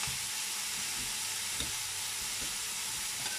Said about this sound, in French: Alors, je vais faire revenir mon oignon.